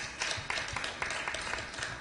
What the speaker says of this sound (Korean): 김지덕 의원님한테 박수 한번 부탁드립니다.